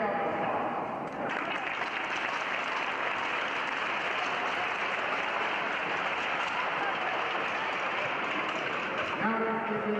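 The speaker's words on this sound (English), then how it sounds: "Give yourself a applause." An audience at a hockey reunion gathering applauds, a steady dense wash of clapping that holds evenly for several seconds at moderate distance, with a voice faintly audible near the end.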